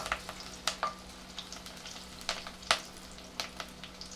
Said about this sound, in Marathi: गॅस बारीक करते दोन मिरच्या टाकते